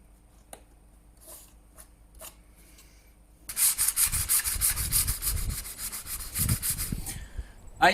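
Sanding the wooden hull of a Danmark model ship from a Billings Boats kit between coats of paint: a few faint scattered rubs give way to steady, close, rhythmic strokes of sandpaper over the painted wood.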